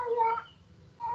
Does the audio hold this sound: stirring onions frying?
no